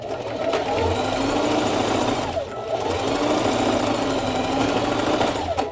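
A sewing machine stitches fabric shut in a fast, steady mechanical whir that runs close and loud. It pauses briefly near the middle, then starts again.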